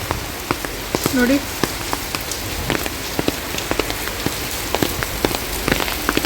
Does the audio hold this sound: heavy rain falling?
yes